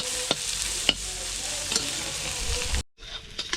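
Snake gourd and egg bhaji fries in a pan, a close sizzle broken by sharp spatula scrapes and clinks, then cutting briefly to a quieter sizzle.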